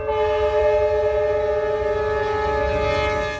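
A train horn blows one long, loud, sustained chord that holds steady for several seconds and fades at the end, with rail noise underneath.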